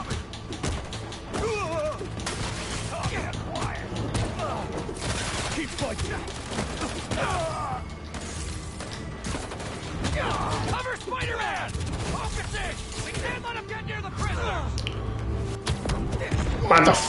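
Gunfire from the Spider-Man 2 video game crackles in bursts alongside crashes and mechanical clatter. It sits under a game character's talking and continues throughout.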